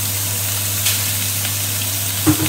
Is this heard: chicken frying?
yes